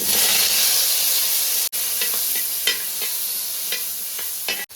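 Crushed garlic and shallots frying in a pan, giving a dense continuous hiss and sizzle up close, with light irregular stirring clicks and a brief dropout midway.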